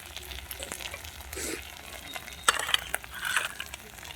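Banana flower with masoor dal sautés in a pan with a soft, close sizzle, punctuated by a few light clinks and scrapes of a utensil against the pan; no talking.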